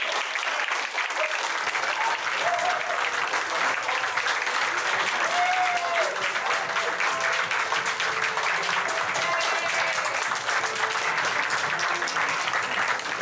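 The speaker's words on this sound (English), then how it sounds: "we're all going to give each other a huge clap, a big round of applause to yourself and your contribution to GSL" Conference audience breaks into sustained, steady applause, a thick continuous wash of many hands clapping at even loudness for over ten seconds, with faint murmurs of voices mixed in underneath.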